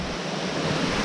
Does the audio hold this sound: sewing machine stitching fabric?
no